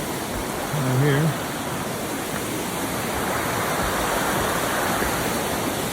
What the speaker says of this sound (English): There's a real nice looking river here.